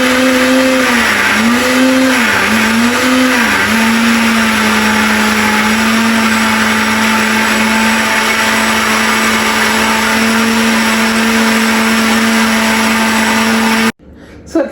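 A Uour blender runs loud and close with a steady high motor whine that dips in pitch a few times early as the load shifts, then holds even before cutting off abruptly near the end.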